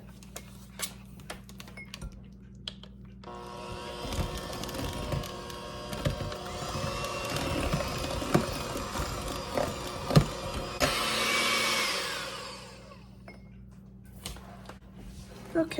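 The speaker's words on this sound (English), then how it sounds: "we're going to mix this up with the mixer" An electric mixer whirs steadily through cake batter of melted butter, milk and egg for several seconds, a mid-level mechanical hum with clattering against the bowl, starting and stopping cleanly, with a person speaking briefly around it.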